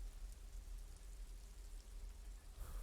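Steady, gentle rain falls in the video game Disco Elysium, a soft continuous patter with low rumble underneath, faint and even throughout with no voices.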